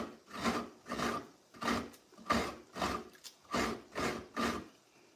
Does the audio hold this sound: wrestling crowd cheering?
no